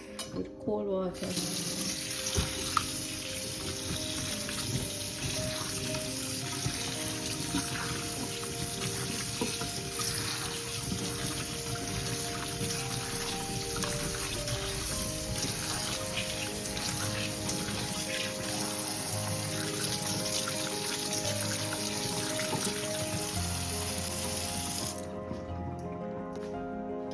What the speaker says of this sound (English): So we're gonna wash this off with cold water.